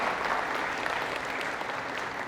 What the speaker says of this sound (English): Give Donette and her entire team a round of applause.